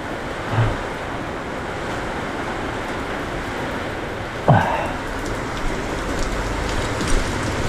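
Heavy rain falls steadily during a typhoon in Calaca, a dense constant hiss with a brief sharp clatter midway and a few small knocks, no talking.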